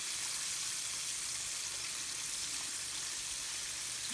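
Buttermilk chicken pieces frying in hot oil in a diner kitchen, a steady dense sizzle and crackle that holds constant and fairly close throughout, with no talking.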